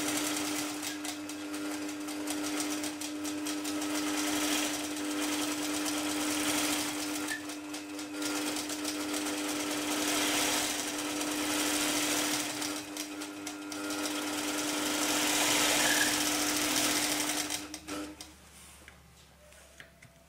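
A longarm quilting machine stitches a clamshell design with a rapid, continuous mechanical ticking and whirring, close and steady for most of the stretch, then stopping abruptly near the end.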